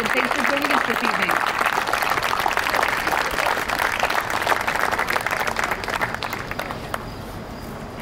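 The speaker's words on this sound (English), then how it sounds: "Let's give them one more round of applause" Sustained audience applause fills an evening opening ceremony for junior girls' golf teams at the Solheim Cup, a dense steady clapping crowd that thins slightly toward the end, with a voice briefly heard early on.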